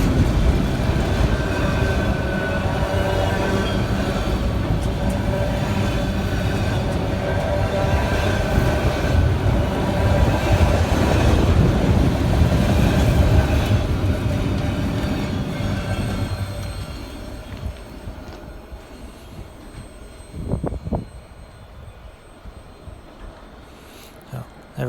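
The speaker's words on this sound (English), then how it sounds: "I've never seen a really fast train on Norfolk Southern going through Princeton" A Norfolk Southern freight train rolls through Princeton, a long loud rumble of wagons and wheels with some squealing, fading away after the train passes and leaving quieter surroundings.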